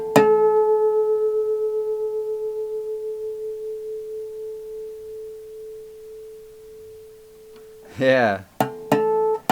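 A guitar string is tuned up against a pure reference tone, giving a sustained note whose pronounced pulsing wobble slows and fades away. A short spoken word follows, over a couple of abrupt noises.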